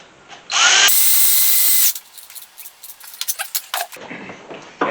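A power tool drives in a 7 mm stud for a power steering pump on an engine being rebuilt, running in one loud sustained whir of about a second, followed by clicks and metallic rattles of tools and parts.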